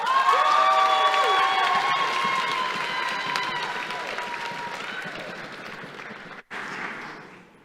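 Applause and cheering for graduates at a Melbourne Polytechnic graduation ceremony, loud at first over a tonal music or voice layer, gradually tapering off, with a brief break before clapping resumes.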